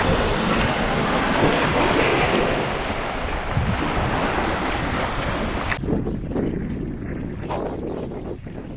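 Sea waves wash against the rocky Highland coast of Scotland, a constant roar of surf mixed with wind buffeting the microphone; the rush thins and drops after about six seconds.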